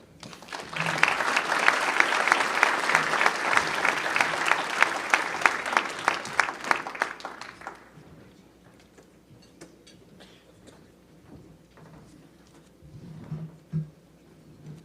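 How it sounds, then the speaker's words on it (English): A crowd applauds warmly for about seven seconds, then the clapping fades into quiet room noise with a few scattered sounds. "How about one more round of applause for Mayor Glatz"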